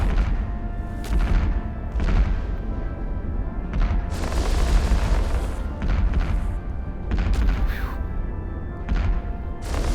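Missile launches and explosions in the space game EVE Online form dense, continuous rumbling booms and bursts with sharp hissing flares, loud and layered throughout without a break.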